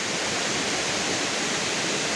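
Nang Khruan waterfall in Tak province, Thailand, roars as a dense, steady wash of broadband rushing water, loud and unbroken throughout.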